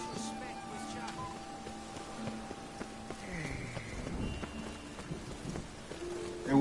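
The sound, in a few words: rainstorm in the video game The Witcher 3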